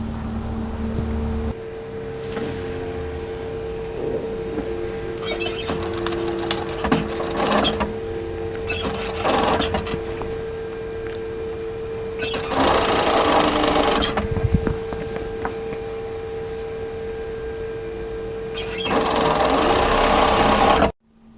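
A sewing machine hems knit fabric in several bursts of rapid stitching, with a steady motor hum and quieter pauses between the runs.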